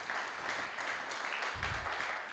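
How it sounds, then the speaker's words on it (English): A short burst of steady applause from a crowd, dense clapping throughout with no voices standing out. "that's well worth a round of applause to the fine esteemed jury"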